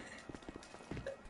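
A short run of horse hooves clip-clopping in GTA 5, a few quick, soft knocks in a loose rhythm, faint and close.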